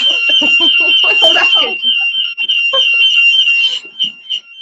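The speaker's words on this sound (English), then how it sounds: "my house alarm has gone off" A steady high-pitched alarm tone sounds continuously throughout, with a voice talking over it for the first couple of seconds and brief noises later.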